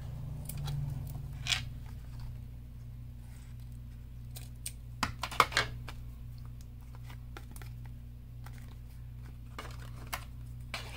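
Scissors snip lace for a handmade journal card in a quiet indoor craft space, a few short close cuts spaced irregularly against a low steady hum, with no talking.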